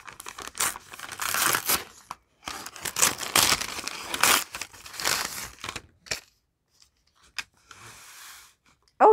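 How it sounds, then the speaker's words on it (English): Plastic packaging crinkles and tears in several quick, close bursts as a pen is unwrapped, followed by near silence with a few faint rustles and a clack at the end. "Crinkling."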